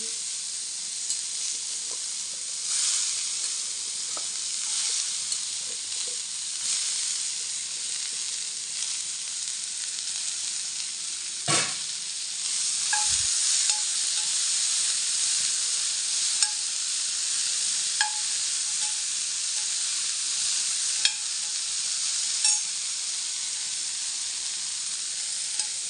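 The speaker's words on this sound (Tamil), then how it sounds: "தக்காளி, வெங்காயம்லாம் நல்லா மசிஞ்சு வர்ற வரையும் நல்லா வதக்கி எடுத்துக்கலாம்." Tomato and onion sauté in a pan for a black urad dal and curry leaf chutney, giving a steady, close sizzle with a few soft stirring clicks, and nobody speaks.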